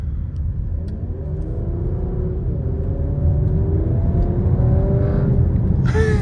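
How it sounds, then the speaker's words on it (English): A Porsche Macan GTS with its exhaust open drives along, giving a steady loud rumble and whir that swells slightly as it pulls, with no talk over it. "this definitely has a louder exhaust than the X3 M40"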